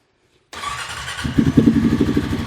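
An ATV engine cranks over and catches after a short silence, then settles into a loud, close, pulsing idle with a rising throaty rumble.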